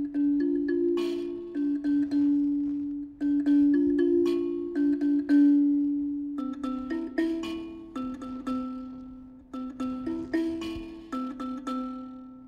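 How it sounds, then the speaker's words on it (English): An mbira plays the repeating layer of a Zimbabwean song, its plucked metal keys ringing in overlapping bright notes over a steady sustained buzz, close and continuous with no voices. "The first layer is the Mbira layer"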